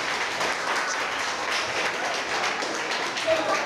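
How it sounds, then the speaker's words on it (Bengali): A debate competition audience applauds, with dense, steady clapping from many hands held at an even level throughout, close and continuous. "আমরা জুড়ে করতালি জানাই, করতালি দিয়ে অভিনন্দন করি।"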